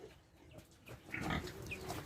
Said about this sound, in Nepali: यिनीहरू चाहिँ सुँगुर फर्म हो।